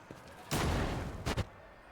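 A grenade goes off in the video game Rogue Trader: one heavy blast rolls for most of a second, followed by a shorter double burst, both loud and close.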